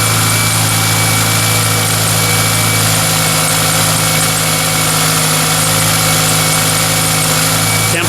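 A 7th-generation Toyota Celica engine idles steadily while warming up from cold, giving a loud, even, close hum with no change in pitch and no talking.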